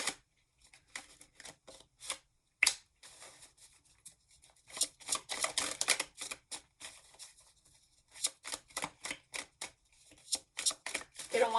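Tarot cards shuffled and drawn from a deck in a run of quick, crisp riffling bursts and snaps, close and fairly quiet, with short pauses between handfuls and no talking.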